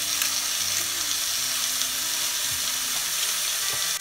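Vegetables for veg hakka noodles sauté in a hot pan with salt and crushed black pepper, a continuous close hiss of frying with occasional light stirring clinks and scrapes.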